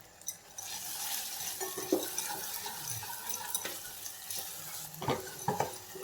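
Turmeric and red chili powder are stirred in a hot pan for a Karnataka-style vangi bhaat, the spoon scraping and clinking against the metal over a low sizzle, with a few louder knocks.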